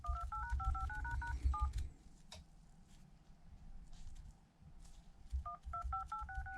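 An iPhone XS Max touchscreen keypad plays a quick series of beeping tones, one short burst at the start and another at the end, clear and close over a low rumbling background.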